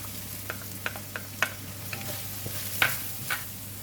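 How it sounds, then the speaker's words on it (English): Onions go into a pan of softened curry leaves frying with ginger and garlic paste, a faint steady sizzle broken by scattered soft clicks and scrapes of stirring. "the curry leaf is already softened, and now I'm putting in the onions"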